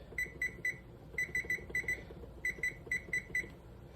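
A kitchen timer on a cooking stove sounds off during hot sauce making, sending bursts of shrill electronic beeps in groups of three or four, repeating steadily over a low background hum.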